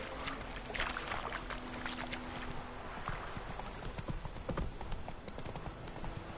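Horse hooves clip-clop in a steady walking rhythm in a video game, moderately close, with faint ambient game sounds behind them and no talking.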